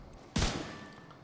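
A single sharp gunshot burst from the video game The Division 2 hits hard and loud, then trails off into a brief decaying echo with no talking.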